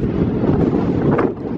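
Strong hurricane wind from Hurricane Irma roars straight into the microphone in a dense, continuous buffeting rush, loud and steady throughout.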